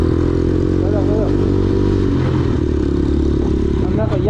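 A 200cc enduro motorcycle ridden off-road over a rough, potholed track, its engine droning steadily and close throughout while someone talks over it.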